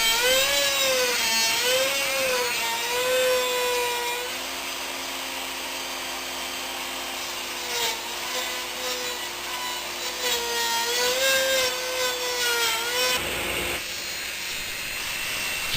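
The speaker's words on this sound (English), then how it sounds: "I'm using my slot mortise machine as a router table to do this." A slot mortise machine set up as a router table cuts a rabbet along the inside bottom edge of a wooden box, giving a steady high whine with shifting rubbing and cutting tones, fairly loud and uninterrupted.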